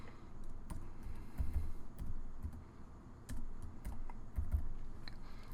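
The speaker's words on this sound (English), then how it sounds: "Type in my text." Steady keyboard typing on a computer while text is entered into a template's text box, a close, continuous patter of key clicks with slightly heavier strokes here and there.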